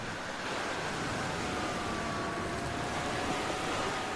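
Broad rushing river water in The Flame in the Flood, a steady, fairly loud wash of flowing current with a windy edge, no voices.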